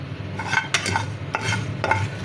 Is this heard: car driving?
no